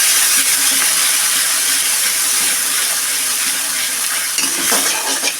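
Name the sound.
stirring and sautéing vegetables with ginger paste in pan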